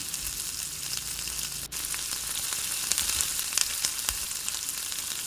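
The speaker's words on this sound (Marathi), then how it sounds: "प्रत्येक ह्याच्यात एक एक चमचा बॅटर टाकायचं ते टाकून झाल्यानंतरून पहिल्यांदा लो फ्लेमवर ठेवायचं" Rava appe batter sizzles steadily in an oiled appe pan over a low flame, a continuous close frying hiss with scattered small pops and crackles.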